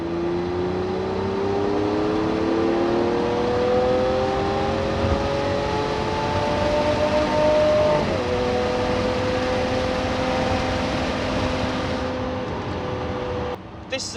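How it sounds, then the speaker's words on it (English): A Lamborghini Aventador S V12 pulls through its gears from inside the cabin with a window slightly open, a steady, loud engine drone rising in pitch and then dropping at a shift, continuous throughout. "I'm going to open the window a little bit and let you hear some of this V12 noise."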